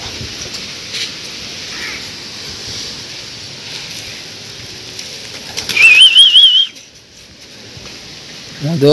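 Pigeons at a loft flutter down to eat feed scattered in the middle of the ground, with a loud rush of wingbeats midway after quieter background murmuring, and a brief chirp rising over the flapping.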